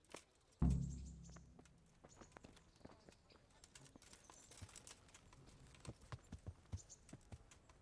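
Horse hooves clip-clopping while riding in the video game Kingdom Come: Deliverance, a sharp thump at the start followed by quiet, then soft, evenly spaced hoof beats that grow clearer toward the end.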